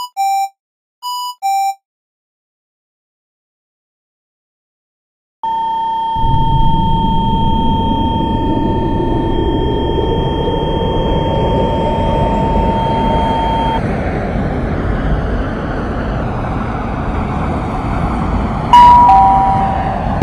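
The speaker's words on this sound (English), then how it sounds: "The train is about to depart." Delta Line train in the game Roblox departing, starting with three short electronic chimes, a pause, then a steady rumbling drive with a tonal motor whine that holds and fades, and a brief beep near the end.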